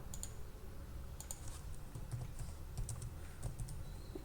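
Computer keyboard typing in quiet room tone, with faint scattered key clicks coming in short irregular bursts and no voices.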